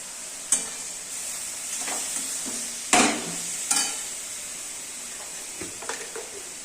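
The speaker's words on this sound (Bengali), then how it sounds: "এখন এগুলো দিয়ে নাড়ব।" Taro stems frying in a pan while being stirred, a steady hiss of sizzling oil broken by a few scraping clacks of the spoon against the pan.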